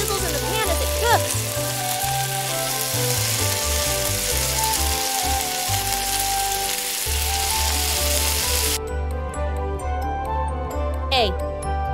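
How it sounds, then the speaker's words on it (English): Loud continuous sizzling of food frying in a pan, with light tinkling sounds and background music throughout. "The egg sizzles in the pan as it cooks."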